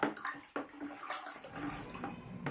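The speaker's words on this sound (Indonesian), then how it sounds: "Lalu kita aduk lagi bahan 1, bahan 2 dengan air yang telah kita masukkan ya." Homemade tire sealant being stirred, two ingredients mixed into seven liters of water, giving a soft continuous sloshing and swirling with a few splashy surges, close but fairly quiet and with no voice.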